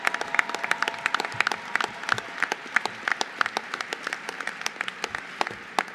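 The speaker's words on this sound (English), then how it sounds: "I'd like us to give one more big round of applause to the Atlas Network team and the Huel events staff." An audience gives a round of applause at a formal dinner event: dense, continuous clapping from a large crowd for several seconds, with no voices over it.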